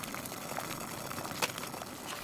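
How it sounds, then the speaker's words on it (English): Water coming to a boil in a pot on a camp stove atop a weathered gray log table at a backcountry campsite, a steady soft bubbling hiss at close range with no talk. "water comes to a boil."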